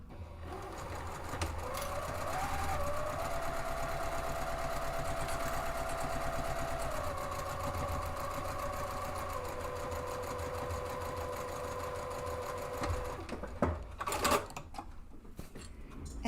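A sewing machine runs a seam on a fabric two-way divided caddy, humming steadily and close for over ten seconds before stopping, followed by a few clicks and handling sounds.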